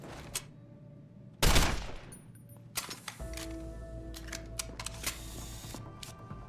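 A single sharp gunshot in Deus Ex: Human Revolution bursts out loud and near, followed by quieter in-game ambience and machinery hum with scattered small clicks.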